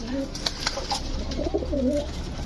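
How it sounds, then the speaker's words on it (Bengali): Soft pigeon coos repeat close by, low and throaty, from khaki and Giribaz pigeons, with faint rustling and murmuring in the background. "এখানে কিছু এই খাকি কবুতর আছে তারপর কিছু গিরিবাজ কবুতর আছে"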